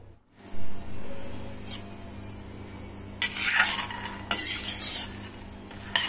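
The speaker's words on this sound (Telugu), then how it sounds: "వాటిని ఫ్రై చేద్దాము మధ్యలో కలుపుతూ ఉండండి లేకపోతే అడుగు మారుతుంది" A utensil stirs food frying over a low flame in a pan, making repeated scraping strokes in uneven bursts over a steady, faint sizzle and background hum.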